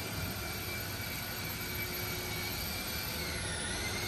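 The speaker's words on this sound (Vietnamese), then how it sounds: "Máy nổ thì thầm mùa xuân luôn." BMW S1000RR sport motorcycle engine running steadily, a continuous close, even broadband drone with no revving peaks, holding the same level throughout and with no voices over it.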